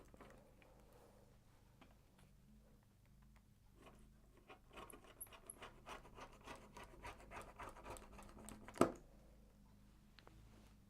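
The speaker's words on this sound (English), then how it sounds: "then cut it out with my rotary cutter" A rotary cutter with a dull, worn blade rolls through fabric for bunting flags, making quiet close rubbing and rasping strokes that build in the middle and end in one sharper click.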